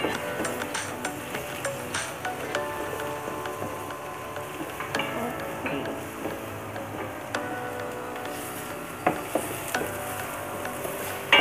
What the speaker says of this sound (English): Stir fry a bit.